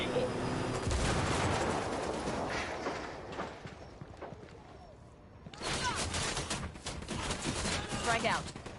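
Dense automatic gunfire and bursts of rifle shots aimed at a helicopter in the Ghost Recon video game, loud and continuous, easing briefly before the firing surges again.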